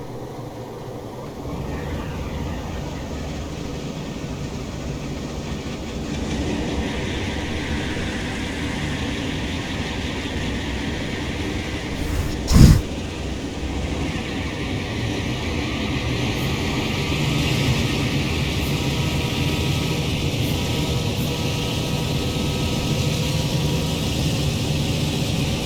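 An Erie Lackawanna C424 diesel locomotive in Train Simulator Classic rumbles steadily with a low engine drone that swells slightly later on, broken by one sharp loud burst midway.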